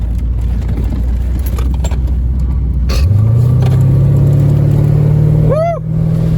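A Corvette's engine revs up hard from inside the cabin, a loud steady drone rising in pitch as the car accelerates, with a tire squeal sweeping upward near the end.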